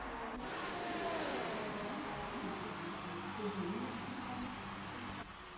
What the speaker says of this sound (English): Ghost King again on an outlap in the Renault